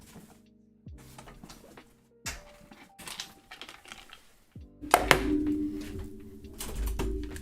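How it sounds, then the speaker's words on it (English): A dice tray knocks against a desk, producing several brief, close clattering knocks separated by short pauses on a quiet background. "The sounds of my dice tray clashing against my desk."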